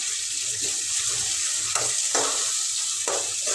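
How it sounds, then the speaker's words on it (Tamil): Onion, tomato and tamarind sauté in a pan for sesame chutney, giving a steady hissing sizzle with a few soft stirring scrapes, close up and without talking. "இதையும் சேர்த்து நல்லா வதக்கி விட்டுக்கலாம்"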